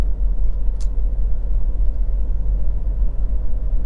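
A Honda CR-V 1.6 i-DTEC diesel drives on quiet Gloucestershire country roads, producing a steady low rumble of engine and road noise with a brief faint click near the start.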